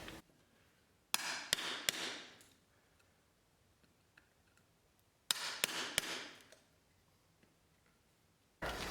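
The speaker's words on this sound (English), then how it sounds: "just taking my chisel and finishing out right up against this piece that we're leaving" A chisel is struck against an engineered wood floor board in two close groups of sharp, loud taps, each followed by a brief scraping cut, with quiet pauses between.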